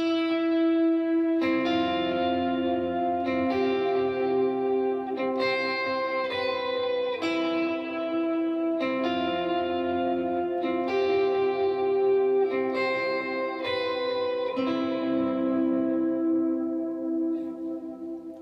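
Electric guitar with echo, reverb and chorus effects playing an intro riff, a repeating picked melodic pattern sustained and shimmering for about eighteen seconds, with no talking.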